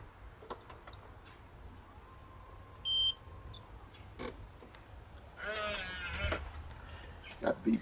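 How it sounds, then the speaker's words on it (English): A short electronic beep from an automatic door lock as it unlocks, part of an RFID and Z-Wave controlled door operator, brief and clear against a quiet room with faint background noise. "That beep was unlocking"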